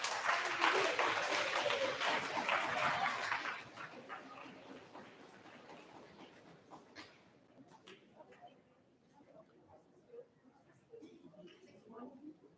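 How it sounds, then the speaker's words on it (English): Applause for high honor roll students fills a middle school awards ceremony. The clapping is loud and dense for about three seconds, then fades into scattered claps and room murmur as people begin talking. "Let's give these students high honor roll round of applause."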